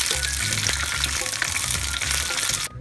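Apple pieces deep frying in hot oil, a dense, loud, continuous bubbling sizzle heard up close with a low rhythmic hum underneath, cutting off abruptly at the end.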